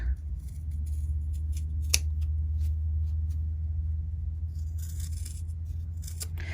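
Scissors snip through fabric while cutting a folded triangle coaster, a quiet series of crisp cuts with one sharper snip, over a low steady background hum, no talking.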